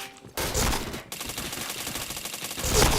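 Gunshots in a shooting video game, rapid bursts of automatic fire with sharp repeated cracks after a brief lull, loud and close, with dense volleys continuing to the end.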